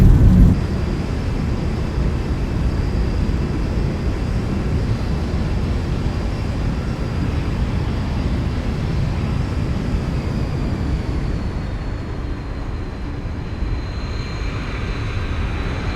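A ZIBO 737 in a flight simulator landing at Zakynthos, Greece gives off a steady, broad engine and airflow roar that holds throughout and eases slightly near the end, with no talking.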